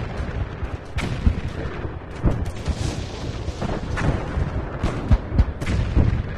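Recorded artillery booms and gunfire crack irregularly through a dense, rumbling battle din, with heavy thuds scattered among rapid shots.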